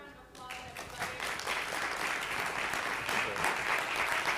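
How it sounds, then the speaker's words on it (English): A large conference crowd applauds steadily, a dense continuous wash of clapping that swells after a brief quieter start and holds at full strength. "Give them a round of applause"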